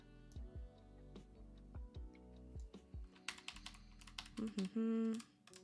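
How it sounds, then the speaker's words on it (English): Computer arrow keys are tapped in a loose series of short, close clicks, with a few quicker bursts toward the end and no talk over them. "Just gonna use the arrow keys to nudge."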